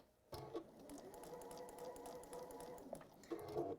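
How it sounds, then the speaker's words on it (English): A sewing machine stitches around the edge of a folded fabric pouch, a steady close whirr that runs on for a few seconds, breaks off briefly, then starts up again. "I'm going to do a little holding stitch before I then sew gently off the edge"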